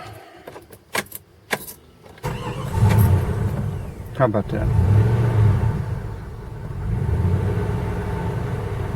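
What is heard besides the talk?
1995 Jeep Grand Cherokee ZJ engine cranking and starting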